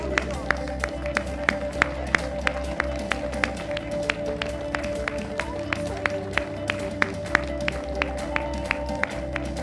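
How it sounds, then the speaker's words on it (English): A crowd in an arena applauds steadily at a powerlifting medal ceremony, with even rhythmic claps over a continuous low hum and murmur, moderately close and sustained. "Give a round of applause, please."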